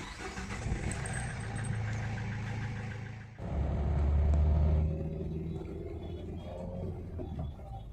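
A Renault Duster, freshly repaired for a front brake problem, rumbles close by as its engine runs and catches, swelling into a louder burst of revving midway, then settling back into a steady driving drone with no talk.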